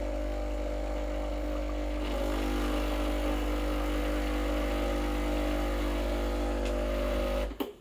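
A Breville Barista Express BES870 espresso machine hums steadily with a constant low electrical drone and tonal whine while warming up, then cuts off abruptly near the end with a brief clatter.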